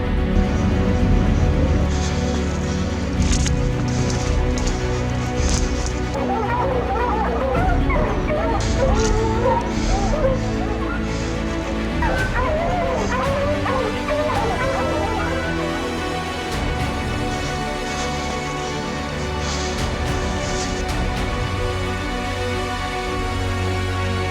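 Hunting dogs bark and yip during a mountain lion hunt in steep, rocky Utah canyons, scattered and somewhat distant over a constant rushing background noise.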